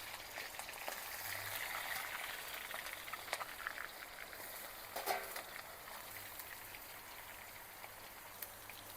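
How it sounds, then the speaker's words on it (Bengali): Shrimp frying in hot oil in a wok, a steady soft crackle and sizzle with scattered pops, close and quiet, no voices. "কড়াইতে তেল দিয়ে দিয়েছিলাম, তেলটাও গরম হয়ে গেছে। এইবার প্রথমে চিংড়ি মাছগুলো দিয়ে ভেজে নিচ্ছি।"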